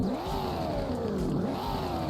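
Game engine sound of a 2022 Maserati Levante Trofeo in Roblox revving, a smooth tone that climbs, dips and climbs again in two rising sweeps, close and steady with no voices.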